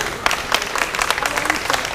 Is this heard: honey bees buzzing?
no